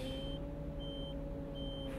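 An Irisbus Crossway bus reverses in the OMSI 2 simulator: a low, steady engine hum with a high reversing beep that repeats in short, evenly spaced pulses.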